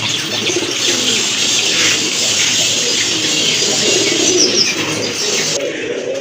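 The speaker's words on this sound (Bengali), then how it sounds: "আরেক জোড়া কবুতর, ড্যানিশ কবুতর" Danish pigeons coo steadily in a crowded loft, many birds calling over one another with occasional chirps, a dense, continuous close-up murmur.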